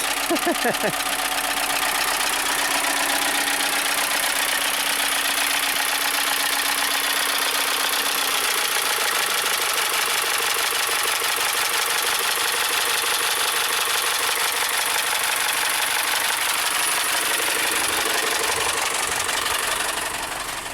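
VW Tiguan engine idling with low oil pressure, a loud, harsh, constant mechanical clatter with a knocking rhythm that runs unbroken and close up.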